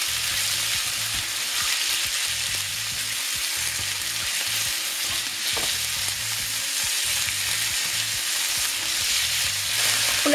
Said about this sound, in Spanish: vamos a añadir el pollo y lo vamos a tener durante unos minutos en la sartén